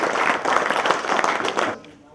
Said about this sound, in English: Round of applause for the council and for the people,